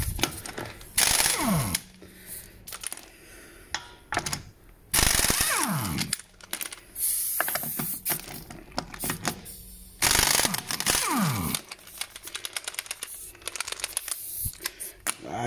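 A pneumatic impact wrench loosens bolts on a camper van in repeated loud rattling bursts of a second or two, separated by clicks, handling noise and quiet gaps, heard close up.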